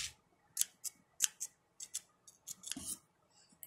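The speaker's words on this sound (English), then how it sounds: "I got these super dull scissors that I hate." Repeated crisp snips of dull scissors, about a dozen sharp cuts in an uneven rhythm, close and clear with no talking.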